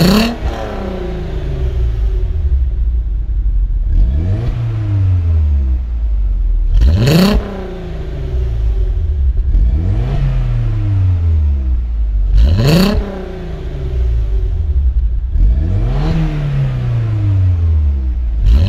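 Engines of a Golf 5 R32 250 hp V6 and a first-generation Audi TT 225 hp, loud and close, revving up repeatedly with rising pitch, then dropping back after each of several sharp revs through gear changes.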